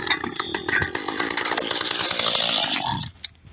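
A Mantis Cultivator tiller's small gas engine, just pulled from a scrap pile and newly started, running loud and close with a busy buzzing rattle before cutting out abruptly near the end.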